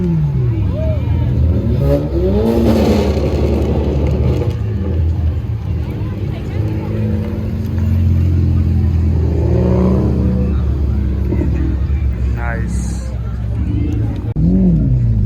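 Powerful Ferrari engines, including F8 Tributo Spider and 488 Pista, rumble and rev as parade cars pass one after another nearby at a Ferrari concorso, with a person briefly speaking over the roar.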